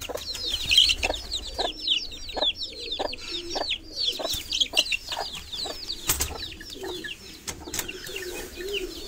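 A caged hen clucks repeatedly up close among other chickens and birds, with scattered wing flaps and rustling in the cage.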